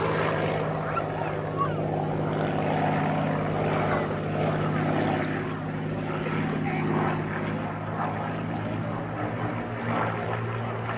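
Hawker Hurricane propeller fighter flying at an RAF Halton airshow, a steady droning engine hum held at a constant level throughout with faint crowd noise and a commentator's voice underneath.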